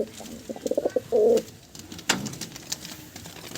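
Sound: pair of green pigeons cooing

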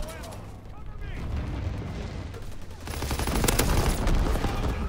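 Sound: bombing run explosions and gunfire in video game Call of Duty WW2

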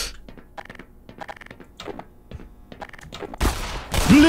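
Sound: gunfire in the video game Black Mesa

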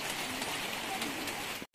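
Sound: rain falling at hillside elephant farm cafe

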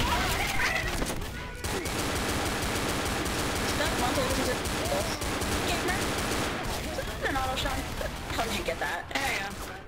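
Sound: pistol gunfire in a video game

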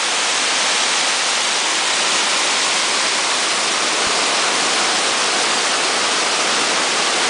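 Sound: waterfall on a river

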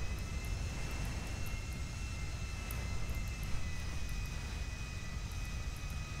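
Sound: airplane flying in video game GTA

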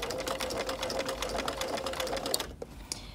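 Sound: sewing machine stitching fabric around a curve

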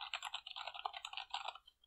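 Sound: typing on a clicky Redragon keyboard

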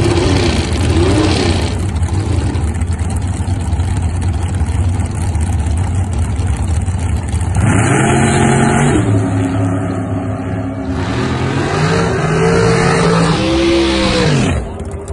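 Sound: super comp drag racing car engine revving

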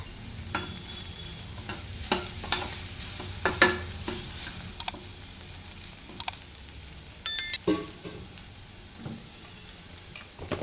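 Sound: frying ginger garlic paste and turmeric for dahi bhindi

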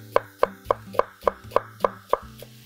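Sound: knife chopping carrots and onion

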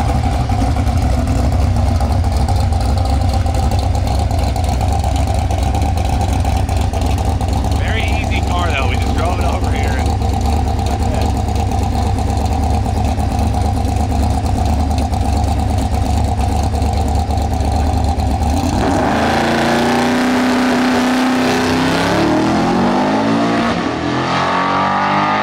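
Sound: car engine idling and revving after new transmission

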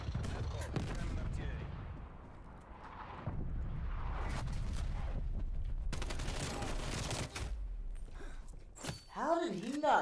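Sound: artillery barrage gunfire in a video game

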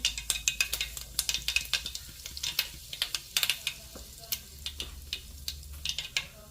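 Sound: cumin and asafoetida sizzling in hot oil

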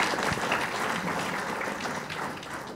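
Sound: audience applause at a press conference

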